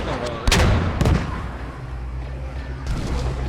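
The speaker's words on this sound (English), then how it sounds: "We've got the AAT returning on fire, blows up at the base of the hill as well from anti-tank fire" Blasts and gunfire from a Star Wars battle game as an AAT droid tank returns fire and anti-tank fire explodes at the base of a hill, with two heavy booms early on over a steady rumbling battlefield din.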